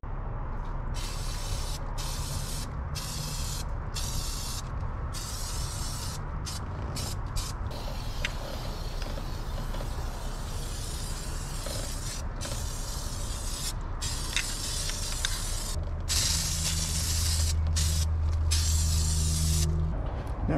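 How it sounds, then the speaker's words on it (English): Cleaning spray misted onto a vehicle engine bay in repeated hissing bursts separated by short pauses, close and fairly quiet, with no voices. "So let's spray it down and we'll see how much better we can make this look."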